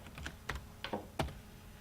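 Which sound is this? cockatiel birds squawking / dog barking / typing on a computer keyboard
typing on a computer keyboard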